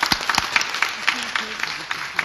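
A small audience at an association hall claps to welcome a visiting Japanese delegation, with scattered, uneven hand claps standing out close by over a low murmur of voices.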